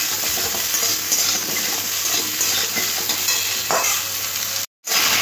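Vegetables fry in a pan with five-spice seeds in a continuous close sizzle with scraping stirs. Near the end the sound cuts out completely for a moment, then returns. No voices.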